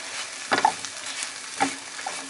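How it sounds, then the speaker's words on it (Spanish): Bread cubes sizzle gently in butter in a pan, with two distinct scraping stirs from a utensil about a second apart over a soft, steady frying hiss. "Vamos a mezclarlo para que todo el pan quede con la mantequilla y se pueda dorar."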